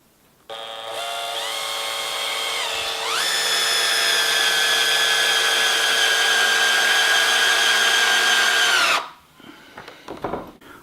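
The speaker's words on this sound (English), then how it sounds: "In setting 1, or on setting 1, the drill rotates slower, but it has more torque." A cordless drill whirs steadily on its slow, high-torque first setting, its pitch stepping up slightly once before holding a constant hum, then stopping abruptly, followed by brief clatter.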